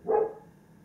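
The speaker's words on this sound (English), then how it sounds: "pardon the dog barking" A dog gives one short bark close by, a brief loud burst that quickly fades into quiet room background.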